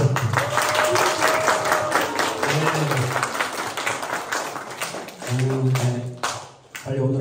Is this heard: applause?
yes